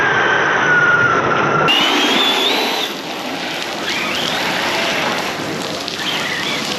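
Heavy rain pouring down during a California storm, a loud, steady, dense hiss that fills the whole stretch with no pauses, heard close by and without talk.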